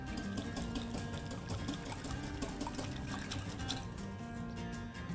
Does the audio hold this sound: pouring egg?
yes